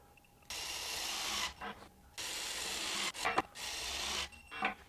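A Milwaukee M18 compact impact wrench, fitted with an adapter and set to 200 foot-pounds, hammers in three loud, close bursts of about a second each, with brief clatter and pauses between them.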